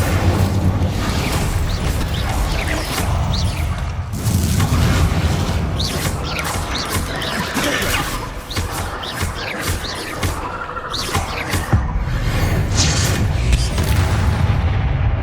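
The Incendio fire spell cast in Hogwarts Legacy, with loud, dense booming bursts and crackling fire effects layered over sustained game sound, surging repeatedly across the whole stretch.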